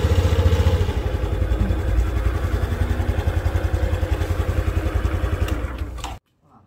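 A motorcycle engine runs steadily with a rapid, even pulse, loud and close, for several seconds before cutting off abruptly near the end.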